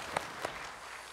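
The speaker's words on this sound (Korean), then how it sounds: "박수로 하나님께 드리겠습니다" Faint, thin clapping from a church congregation during a Sunday worship service, with a couple of sharper claps near the start over a soft, diffuse wash of sound.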